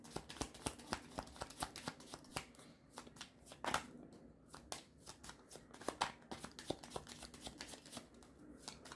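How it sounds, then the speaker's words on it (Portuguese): Tarot cards being shuffled by hand during a reading, a dense run of quick crisp riffling slaps and flutters that keeps going nearly without pause, close and clear with no talking. "E agora a gente vai embaralhar"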